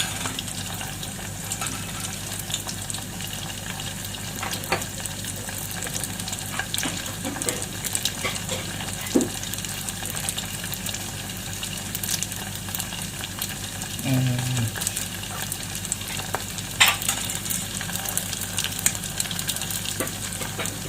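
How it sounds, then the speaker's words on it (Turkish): Stuffed bulgur içli köfte fry in hot oil with a low, steady sizzle, interrupted by occasional clinks and scrapes as the pieces are turned in the pan. "nar gibi kızarana kadar köftelerimizi çeviriyorum."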